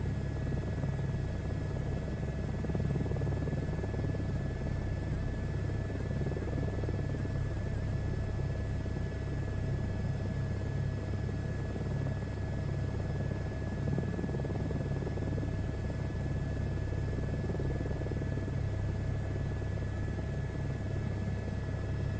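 A helicopter in the VR flight game SU4 drones with a steady, even rotor and engine hum that holds at constant loudness throughout, with no speech over it.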